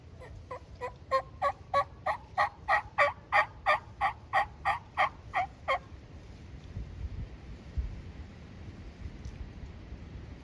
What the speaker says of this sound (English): We still got them turkeys. They're all fanned up over there,